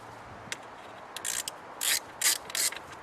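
A ratchet wrench tightens the three bolts of a blow-off valve adapter on a Mini Cooper S R56, giving several short bursts of close, bright clicking separated by pauses.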